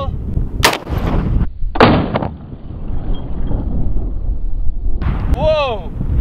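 A single heavy 20mm rifle shot rings out on an outdoor range, loud and close with a sharp report, between bursts of talk before and after it.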